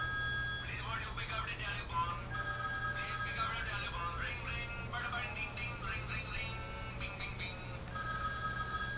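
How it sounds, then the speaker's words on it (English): A phone ringtone plays, a repeating electronic melodic pattern of bright tones over a steady background hum, moderately faint and continuous for several seconds. "Okay, let's hear that ring. Let's hear that ring. Put on the phone."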